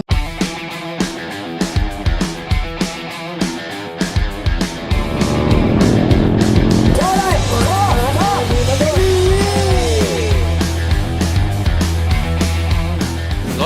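Engine of a Yamaha Finn motorcycle revving and droning continuously as it rides off-road over rough ground, loud and close, with rattling bumps early on.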